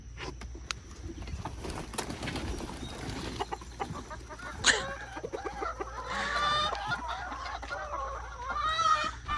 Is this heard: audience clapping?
no